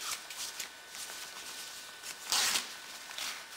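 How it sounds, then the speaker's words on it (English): The pocket zipper on an Eberlestock J107 Dragonfly backpack is pulled open, giving short, close, scratchy zipping strokes with a louder pull near the end. "This one here zips open from the side"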